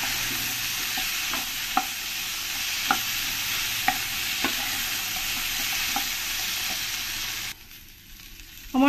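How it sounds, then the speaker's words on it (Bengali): Potatoes and kohlrabi sizzle in oil in a pan, browning for a tilapia curry, a steady close crackle punctuated by light spoon scrapes, ending abruptly in quieter room sound with no speech. "বেশ লাল লাল করেই আমি ভেজে নেব আলু আর ওলকপিগুলোকে।"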